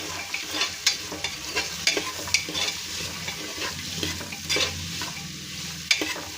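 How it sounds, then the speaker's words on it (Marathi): Cauliflower, carrots and peas stirred in hot oil in a pan, with steady sizzling broken by repeated scraping and clinking strokes of a spoon at close range. "फुलगोबी आणि मटार हे छान असं मिक्स करून घ्यायचं आपल्याला"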